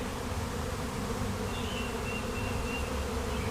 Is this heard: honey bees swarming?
yes